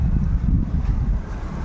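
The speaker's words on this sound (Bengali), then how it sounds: "ভালোই হাওয়া দিয়েছে" Strong wind gusts across a rooftop, buffeting the microphone with a low, steady rumble that stays loud and close throughout.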